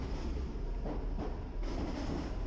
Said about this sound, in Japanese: この列車新大阪駅出発しまして